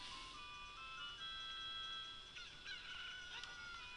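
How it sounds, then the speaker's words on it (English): Kojiro the cucco crowing in Zelda: Ocarina of Time, a synthetic rooster crow with bright tonal warbles, layered over quiet game ambience. "as soon as you get in here, Kojiro is going to start crowing"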